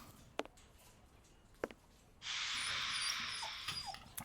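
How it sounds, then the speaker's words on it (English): Dog whimpering in the Sherlock vs Jack the Ripper video game: a few brief faint whines, followed by a steady high-pitched hiss that runs to the end of the clip. "I hear a dog."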